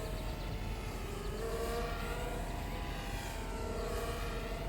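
Blade 200QX quadcopter flying, a steady high buzzing whine of small rotors with wavering pitch, moderately distant and faint, continuous throughout with no talk.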